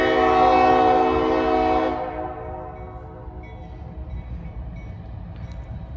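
A CSX freight train led by EC40 DC locomotives sounds a long, loud multi-tone horn blast, which cuts off and leaves a steady rumble of the train rolling past.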